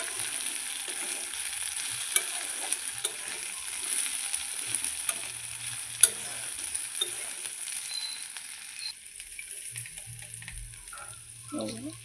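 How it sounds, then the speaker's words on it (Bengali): Potatoes frying in oil in a wok-style pan while being stirred for an egg curry, a steady close sizzle broken by scraping stir clicks, quieting toward the end with a low hum. "এদিকে আমার আলুটা ভাজা ভাজা হয়ে গেছে,"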